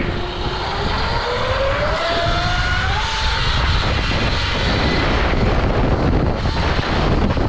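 Heavy wind buffets the microphone in a constant loud roar and rumble, with a faint whining engine tone from a Surron electric motorbike sweeping underneath.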